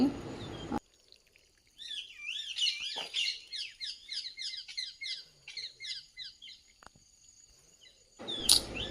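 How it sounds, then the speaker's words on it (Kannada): Birds chirp and sing in quick rising-and-falling phrases, fairly close, in a farm garden over a quiet background, with brief rustling noise at the start and end. "ನನಗೆ ಇಲ್ಲಿ ಥರ ಪಕ್ಷಿಗಳ ಸೌಂಡ್ ಎಲ್ಲ ತುಂಬ ಇಷ್ಟ"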